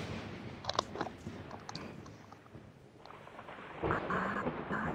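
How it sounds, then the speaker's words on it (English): Thunder rumbles in a VRChat world, a low, sustained rolling roar with a swell toward the end, heard alone without talk. "Hear thunder, but I don't see anything."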